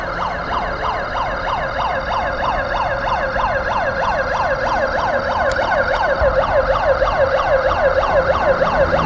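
A loud, steady wailing siren sounds from a fishermen's ambulance boat fitted with emergency equipment off Ullal near Mangalore, its rapid rising and falling tone repeating close by over constant engine and wind noise.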